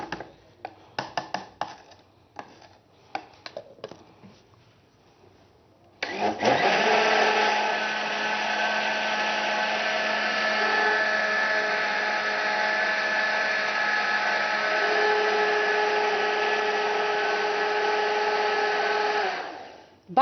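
A blender grinds cake batter made with black honey (molasses), running loud and steady for about thirteen seconds after a few scattered knocks and clatters.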